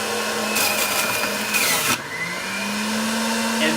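A Breville juicer runs on celery, its motor whining steadily with bursts of crunchy shredding noise as stalks feed through, loud and close, the pitch dipping briefly under load before rising back.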